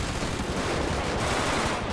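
A short, relentless burst of rapid helicopter cannon fire in GTA V, loud and close, with shots blurring into one steady roar.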